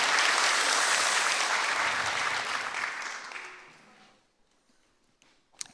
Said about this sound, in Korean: 우리 하나님께 영광의 박수를 한번 올려드립니다.